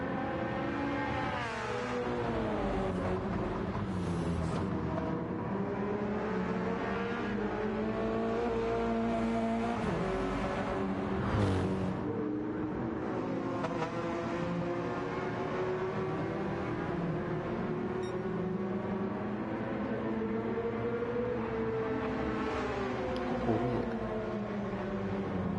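Subaru and Porsche race car engines from Gran Turismo 7 drone steadily and loudly throughout, with continuous revving pitch sweeps as the cars push hard and shift, the multi-car racing drone never letting up.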